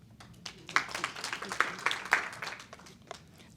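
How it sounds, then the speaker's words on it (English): Audience clapping at a chamber of commerce event, a scattered round of applause with uneven bursts and no talk over it, moderately loud and close. "I am going to be one of those volunteers. So I'm clapping."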